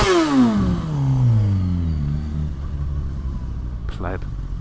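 A lorry's heavy engine rumbles close by on the road, a deep low drone with a swelling roar that shifts in pitch, while someone talks over it.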